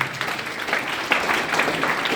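An audience at a school road safety event applauds a student with dense, continuous clapping from many hands that holds steady throughout.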